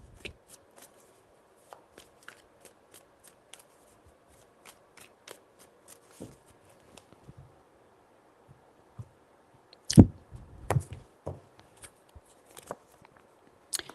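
A deck of tarot cards being shuffled by hand in repeated short riffles and taps, close and fairly quiet, with a louder burst of shuffling near the end.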